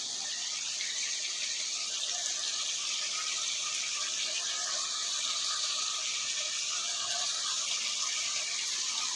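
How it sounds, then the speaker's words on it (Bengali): Pointed gourds (potol) tipped into hot spiced oil for Bengali tel potol set off a loud, steady frying hiss that holds evenly for the whole stretch, with no voices over it. "এবার আমি এর মধ্যে দিয়ে দেব পটলগুলো।"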